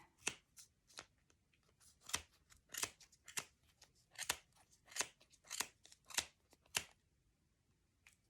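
Sharp scissors snip repeatedly through thick yarn while a pom pom is being cut apart, a dozen or so close, crisp crunching cuts in an uneven rhythm over a quiet room.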